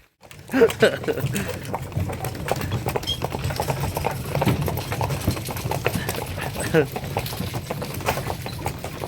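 Hooves of work mares clip-clop steadily on a hard surface at a walking pace in a village in Pechenizhyn, Ukraine, fairly close, with faint background noise and scattered clatter.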